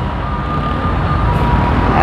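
Heavy urban road traffic sounds from a motorcycle in Parañaque: a loud, constant rumble of engines and road noise close by, with a faint steady tone threading through it.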